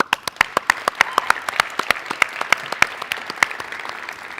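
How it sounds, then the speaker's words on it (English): A school awards ceremony audience applauds steadily with many distinct, crisp claps that keep a busy, even rhythm throughout, sounding moderately near and filling the room. "let's give a round of applause to everybody that made tonight possible"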